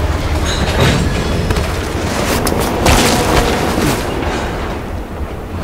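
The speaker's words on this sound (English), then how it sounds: "Train slowing down." Train slowing down in the Black Ops Cold War video game, a loud, dense rumbling roar with clanking bursts that swells briefly and then eases off, no talk.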